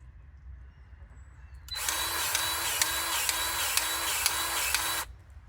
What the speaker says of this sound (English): the Milwaukee grease gun comes with an angle piece